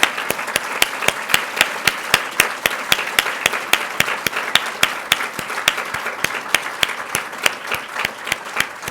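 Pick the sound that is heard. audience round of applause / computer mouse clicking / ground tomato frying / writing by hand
audience round of applause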